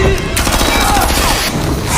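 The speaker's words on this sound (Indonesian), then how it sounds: "sempat diberondong peluru oleh si kapten dan seluruh anak buahnya" Gunfire in a zombie film scene, a dense burst of rapid shots in a continuous volley, loud and close, with no talk over it.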